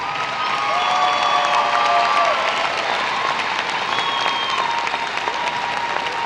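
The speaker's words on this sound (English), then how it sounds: "Please join me in a round of applause for these outstanding students." A large audience at a 2018 high school graduation ceremony applauds graduating students in sustained, even clapping, with some cheering and a few whistle-like tones rising above it.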